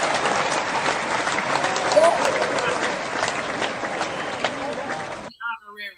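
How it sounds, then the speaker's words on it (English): Sustained applause from a crowd, dense and steady for several seconds, then cutting off abruptly as a voice begins speaking. "Give her a round of applause."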